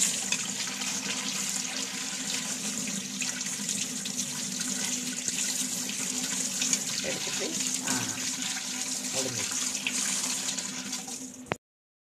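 Mushrooms are rinsed under a running kitchen tap: a steady, close stream of water splashes for about eleven seconds, with a few faint handling sounds, then stops abruptly.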